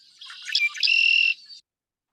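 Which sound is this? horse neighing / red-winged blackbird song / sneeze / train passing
red-winged blackbird song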